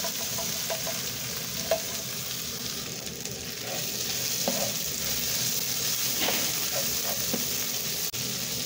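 Omena (dagaa), small fish, fry in a pan with a steady close sizzle and occasional soft pops and stirring scrapes. The sizzle continues throughout with no talking.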